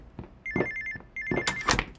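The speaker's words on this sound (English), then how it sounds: "For God's sake, then answer that phone, Gil!" A telephone in a comedy scene rings with two bursts of rapid electronic trilling, close and clear, while thumps and brief background movement sound in between.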